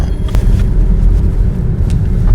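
Manual car pulling away from a stop, a steady low engine rumble and road noise throughout, fairly loud and close, with no talking.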